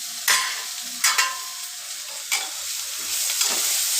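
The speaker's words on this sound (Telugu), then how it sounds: "ఇవేమో పల్లీలు ఫ్రై చేస్తున్నాను." Peanuts fry in a pan with a steady sizzle, punctuated by a few sharp scraping stirs and clicks of a spatula, close and clear with no talk.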